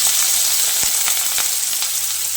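Diced small eggplant hits hot mustard oil in a pan, giving a loud, steady sizzle with scattered sharp crackles and pops throughout, close up and with no voices.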